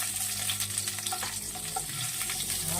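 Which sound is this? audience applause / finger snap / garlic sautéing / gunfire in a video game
garlic sautéing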